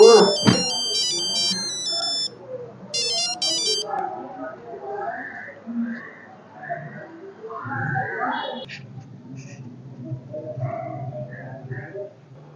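A phone ringtone plays two short bursts of bright electronic melody near the start, then stops while a person talks.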